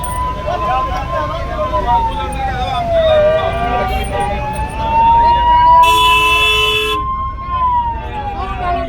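A wailing ambulance siren rises and falls steadily throughout, loud and close, over protest crowd noise and highway traffic rumble, with a brief harsh horn burst midway.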